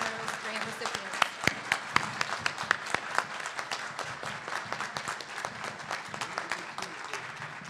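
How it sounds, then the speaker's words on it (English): An audience applauds grant recipients at an entrepreneur awards event, with sharp individual claps standing out over a continuous crowd patter, while voices talk over the clapping. "let's give a big round of applause to all of our 2010"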